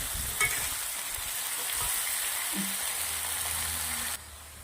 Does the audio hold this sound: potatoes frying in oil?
yes